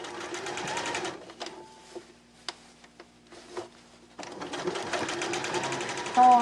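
A sewing machine stitches fabric for a beginner's bag in rapid bursts of mechanical whirring, stopping briefly in the middle for a few clicks before running again, close and clear, with some talk around it.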